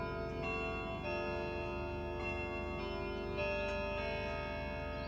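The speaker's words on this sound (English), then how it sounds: "This is going to be the last chime of the evening." An indoor chiming clock strikes its last quarter-hour chime of the evening at 9:45, with sustained ringing tones over a soft, steady tick.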